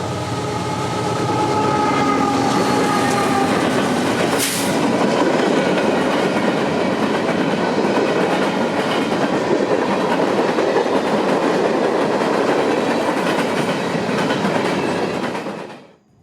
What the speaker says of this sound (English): we get one last NS train, a short freight to end the night